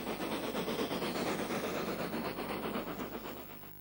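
An H-class tank engine from the Southeastern and Chatham pre-grouping era, fitted for push-pull working, hauls a branch-line train, its steady rumble and rhythmic clatter of wheels continuous and close throughout, with no talk.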